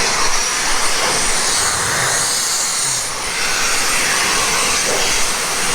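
A sandblaster stuck running blasts air while stripping a narrowboat, a loud, constant roaring hiss that barely dips and holds steady throughout.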